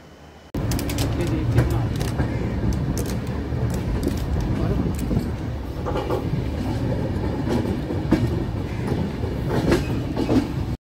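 Diesel-hauled Shane Punjab Express passenger train running fast at about 125-130 km/h, with a constant roar and rhythmic clickety-clack of wheels over rail joints, heard from inside a carriage, voices faintly underneath.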